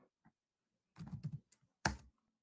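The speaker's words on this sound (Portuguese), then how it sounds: "Agora você vai digitar rapidão aí, na linha 6 aí para baixo, você vai digitar let." Someone types code on a computer keyboard, a few scattered soft taps and then a quick cluster of keystrokes ending in one louder, sharper clack, close and in a quiet room.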